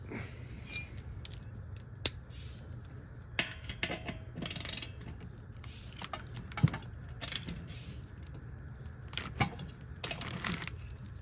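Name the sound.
ratchet with 12mm socket loosening bolts on a 212cc Predator engine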